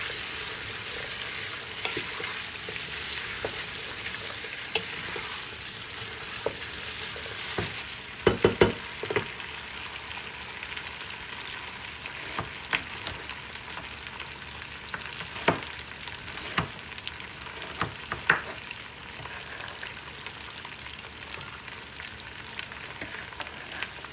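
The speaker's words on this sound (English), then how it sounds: "Give it a nice stir." Potatoes and vegetables fry in a pot for homemade lentil soup, with a soft steady sizzle and scattered scrapes and knocks of a spoon stirring, fairly quiet with no talking.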